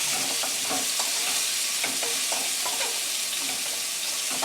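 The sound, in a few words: basmati rice being added and stirred with onions in oil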